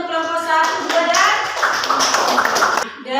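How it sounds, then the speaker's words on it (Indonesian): Students in a classroom applaud for a group, a short burst of dense clapping from many hands, close and loud, with a voice speaking over the start. "Tepuk tangan sekali lagi untuk kelompok 1"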